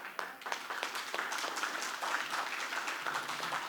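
An audience applauds a college professor's lecture on freedom and liberty with steady, moderately loud clapping from many hands that continues without a break for the full few seconds.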